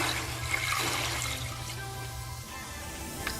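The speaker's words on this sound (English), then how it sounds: "and then add some water." Water pours into a pot of beef stew with potatoes and carrots, a steady close splashing rush that carries on alone for a few seconds before easing off.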